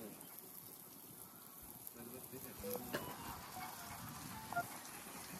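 Fish frying in oil over an outdoor coal fire, a faint, steady sizzle under people chatting nearby, with a few small clinks.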